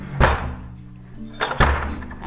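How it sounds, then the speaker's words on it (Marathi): A house door slammed shut at home, two sharp thuds about a second and a half apart, close and loud, with faint room noise between them. "चला दरवाजा बंद,"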